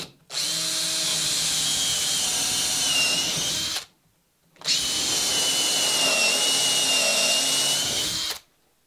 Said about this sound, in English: I'm driving them deep enough that I can get a plug into these holes here.